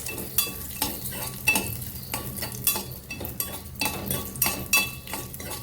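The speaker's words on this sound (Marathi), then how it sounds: "मी बदाम आणि मनुके भाजून घेते थोडी तेल तुपावरती" Almonds and raisins frying in a little oil and ghee for a sago and sweet potato kheer, a steady close sizzle broken by repeated sharp scrapes and clinks of a spoon stirring against the pan.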